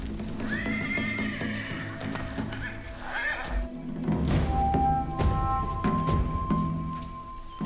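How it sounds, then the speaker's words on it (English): Wild Pottoka horses whinny loudly while hooves thud and clatter through brush, a busy jumble of neighs and trampling close by. "The group is alerted given the bustle of neighs and broken bushes."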